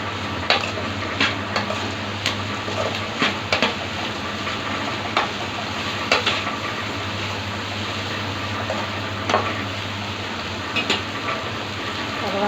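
Okra pieces, onions and tomatoes fry in a pan, giving a steady close sizzle with occasional stirring scrapes and clicks running through the whole stretch, no voices.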